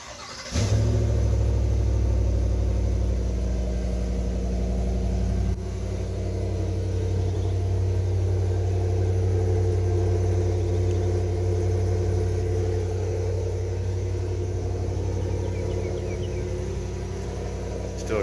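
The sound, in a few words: 2022 GMC Yukon XL AT4 6.2 liter engine cold start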